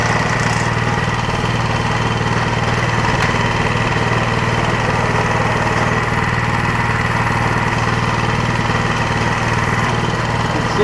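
A snowblower engine runs steadily at a loud, constant drone, close up, with its drive belt spinning and no pauses or voices throughout.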